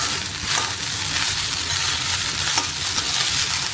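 Fried rice with schezwan chutney is stirred in a pan over a high flame, a loud continuous sizzle with scraping swishes of the spoon running throughout.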